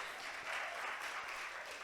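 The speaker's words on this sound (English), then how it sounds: "So another round of applause for them, please." Audience applause following a youth-led session on HIV and adolescence, a steady, dense round of clapping that sounds fairly distant and soft, holding evenly for the whole short stretch with no voices over it.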